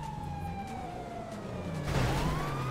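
Police car siren in the video game GTA 5 roleplay, a steady wailing tone sliding slowly downward and then rising again over a continuous engine rumble, growing louder toward the end.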